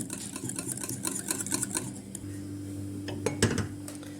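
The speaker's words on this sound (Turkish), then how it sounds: "yoğurtla yumurtayı güzelce karıştırıyorum" Rapid rhythmic clinking of a utensil whisking yogurt and egg in a bowl, followed by a low steady hum and a couple of sharper knocks.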